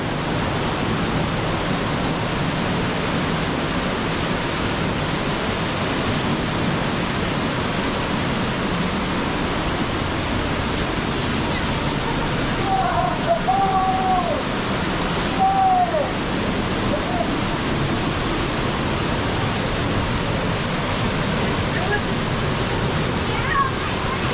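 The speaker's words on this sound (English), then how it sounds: "One of the main attractions here at Watkins Glen State Park is the Gorge Trail, which is an amazing waterfall." Waterfall on the Gorge Trail at Watkins Glen State Park, a steady, loud broadband rush of falling water throughout, with a few faint voices briefly audible midway.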